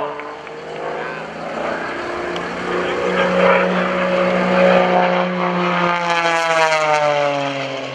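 A propeller aerobatic airplane with a modified Barrett Performance I-540 engine climbs at an airshow, its loud droning roar holding steady and then shifting pitch as it pulls away, with a crowd murmuring beneath.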